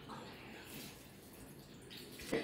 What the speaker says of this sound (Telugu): కొంచెం నీళ్ళు వేసేసి